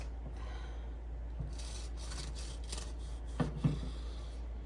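A knife slices through a loaf of banana nut bread in soft, close sawing strokes, ending in a couple of brief sharper taps, over a steady low background hum.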